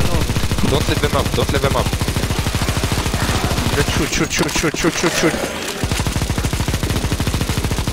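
Sustained automatic gunfire from a CS:GO zombie escape match fills the clip as a fast, loud, continuous stream of shots, with a short break in the middle while a player's voice calls out over it.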